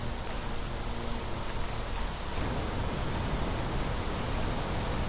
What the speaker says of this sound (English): we're getting some some rain here